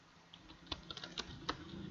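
Quick, light keystrokes on a computer keyboard in a quiet room, with irregular clicks and a few sharper taps, fairly close and soft; no speech.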